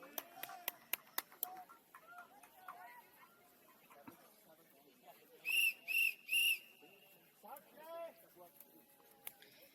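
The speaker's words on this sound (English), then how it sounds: "we hear the 3 whistles to get this game underway" Three short, sharp referee whistle blasts in quick succession at the start of a football match, loud against a quieter background of scattered voices and small noises.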